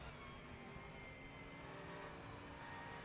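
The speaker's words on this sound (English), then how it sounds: "I love having a little listen of the car as he really attacks that curve" Faint onboard engine drone from a race car lapping the Nürburgring in a sim racing eSport event, a continuous steady buzz with no clear revving peaks, heard alone without talking.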